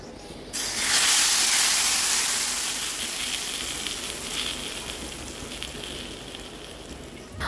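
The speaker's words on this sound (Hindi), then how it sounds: "इसमें लगा देते हैं तड़का।" Sudden loud sizzle as tempering spices hit hot oil for kadhi, a bright crackling hiss that bursts in then slowly settles while still frying steadily.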